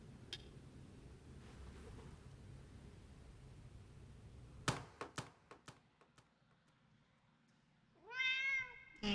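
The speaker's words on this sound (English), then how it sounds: "I hear a cat" A single drawn-out cat meow sounds near the end, following a few sharp taps and a quiet, noisy background.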